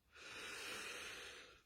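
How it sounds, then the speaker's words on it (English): One deep breath in and out, a soft, close airy hiss that swells and fades over under two seconds, quiet and alone. "take a deep breath in and out"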